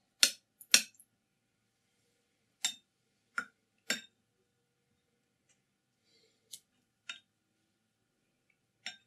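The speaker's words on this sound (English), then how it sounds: "Now we can wash" A paintbrush being rinsed in a water jar, sharp small clinks and taps of the brush against glass, about nine isolated ticks spread unevenly over silence, close and faint.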